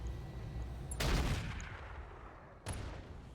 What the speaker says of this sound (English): we are going to continue to drop artillery on the hunter here